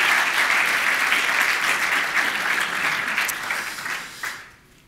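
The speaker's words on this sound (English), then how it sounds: "So a big round of applause for our two guests this evening." An audience at a live sports-data talk applauds two guests with loud, sustained clapping that holds steady, then tapers off and fades out near the end.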